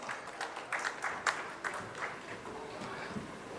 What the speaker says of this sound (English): Let's welcome sir with a huge round of applause,